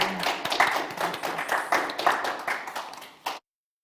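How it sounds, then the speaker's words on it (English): Audience members clap for the panelists at the close of a panel discussion on victims of organized crime, a brisk round of many hands that fades and cuts off abruptly. "I would like to ask the audience to have a quick round of applause for the amazing panelists"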